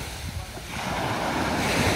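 Waves breaking on the sandy beach at Kuşadası, a steady rushing wash of surf that swells louder toward the end, with some wind noise against the microphone.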